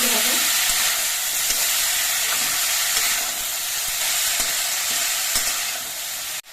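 Mustard flowers fry in a pan with a loud, dense, continuous sizzle that stays nearly constant throughout, with a few faint stirring knocks underneath. The sizzle cuts off abruptly at the end.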